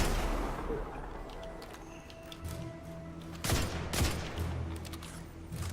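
Sniper rifle and other gunfire in the sci-fi shooter game Destiny 2: a few sharp cracks stand out midway over a low, busy backdrop of in-game ambience.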